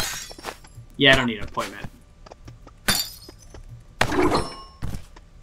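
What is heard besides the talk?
coffee mugs thrown and shattering, video game Stick it to the Stickman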